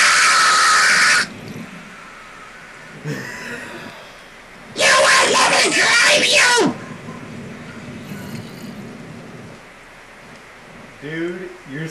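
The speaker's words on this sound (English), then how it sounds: "Dude, you're screaming." A person playing Minecraft screams in two long, loud, harsh bursts, close to the microphone, with quieter talking in the gaps between them.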